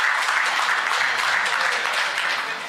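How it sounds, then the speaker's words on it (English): Applause from an audience at a business summit in Kisumu, a dense, even wash of many clapping hands that holds steady and loud before easing slightly at the end. "let's give them a warm round of applause for that."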